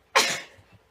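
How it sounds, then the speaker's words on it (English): A single sharp sneeze bursts out close to the microphone, a quick explosive blast trailing off into a brief breathy tail. "Excuse me, I'm about to sneeze."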